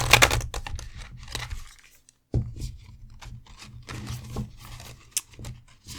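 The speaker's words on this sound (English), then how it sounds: "if you're ever shuffling oracle decks, try to shuffle from the corners" An oracle card deck being shuffled, bursts of crisp riffling and flicking cards with a short pause, then more rapid papery clicks and slaps, close and fairly clear.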